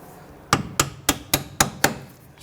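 Hammer tapping during rear strut and spring assembly installation on a 1992-1996 Toyota Camry; six sharp metallic taps evenly spaced, close and alone.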